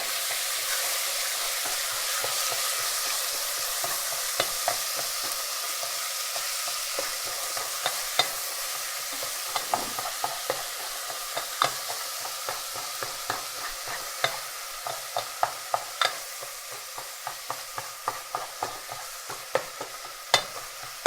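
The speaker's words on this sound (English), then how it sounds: "And now I'm going to add the turkey into the pot." Ground turkey sizzling in a pot over medium heat for lasagna soup, a steady close frying hiss broken by repeated sharp clicks and scrapes of a utensil stirring and breaking up the meat, growing more frequent, no talk.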